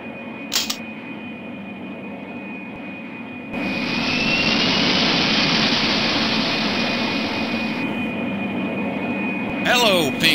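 Airliner jet engines spooling up for takeoff in the Pink Panther: Passport to Peril video game, a loud steady roaring whoosh lasting several seconds before dropping away, with brief clicks at the start and end.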